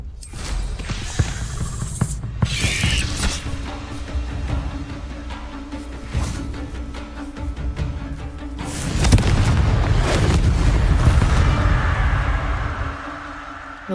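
Confringo blasting spell detonating in Hogwarts Legacy, with heavy booming explosions and crackling impacts across the combat, followed by a larger rumbling blast that swells loudly near the end, amid game effects and battle noise.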